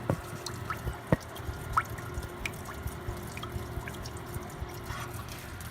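Fluid from a Ford 4x4 transfer case drains out of the open plug, a soft steady trickle broken by scattered drips and splashes, close by and fairly quiet with no talk.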